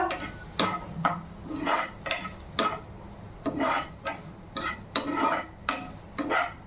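A spoon stirs paneer bhurji with chilli powder in a pan, scraping the metal in a steady rhythm of about a dozen distinct strokes over a soft sizzle, close and clear with no talk.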